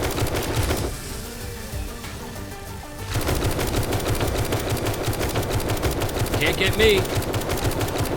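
Tactical assault rifle fire in the zombie game 7 Days to Die, rapid continuous automatic bursts with a short lull, loud and close, as a voice speaks briefly over the shooting.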